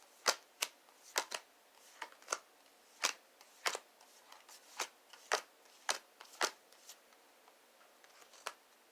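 Tarot cards being shuffled by hand, a quiet run of crisp riffling snaps and soft slaps in an uneven rhythm, each burst brief and close, with no voices.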